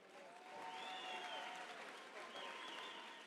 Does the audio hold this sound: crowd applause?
yes